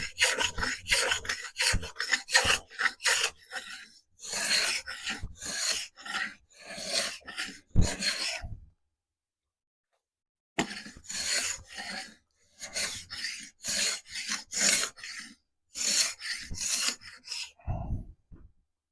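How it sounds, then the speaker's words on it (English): Excess dried glue scraped off wood for a segmented turning base, rapid rhythmic rasping strokes in bursts with a brief silent pause midway, close and alone, ending with a soft thump. "Now we scrape off the excess."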